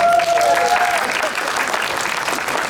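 Applause from a crowd at an anime convention stage show, steady and dense throughout, with a faint voice and a brief tone heard early on.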